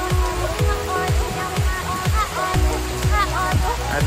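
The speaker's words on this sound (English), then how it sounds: "Oh, it's raining here in Phuket." Steady patter of rain on a surface in Phuket, Thailand, with a repeating low thumping beat and some tonal music-like sounds mixed in throughout.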